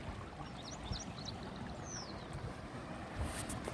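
The Baitarani River flows over stones beside a forest, giving a steady, moderate rush of water, with a few faint bird chirps above it.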